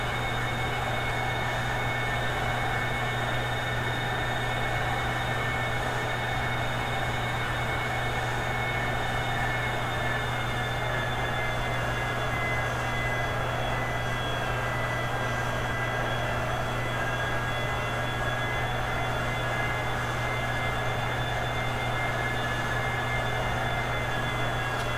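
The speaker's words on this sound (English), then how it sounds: "Doing a legit Southwest taxi, 21 knots, speed it to the runway" A Southwest airliner in Flight Simulator X taxis to the runway with a steady, unbroken jet engine drone and high whine, constant and loud throughout, with no voices.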